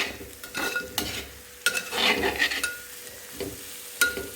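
A spoon stirs a curry with coarsely ground dried red chilli in a pan, giving irregular scraping and clinking strokes over a soft sizzle, close by with no voices.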